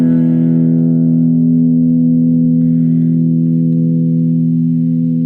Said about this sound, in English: If I play the same chord clean,